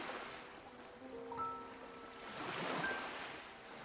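Ocean waves wash gently back and forth on a sandy shore in a soft, steady, distant hush, with a few faint sustained tones drifting above.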